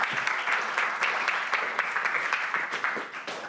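Audience applause follows the introduction of speakers at a history of printing lecture, a steady patter of many hands clapping at moderate volume that fades slightly toward the end.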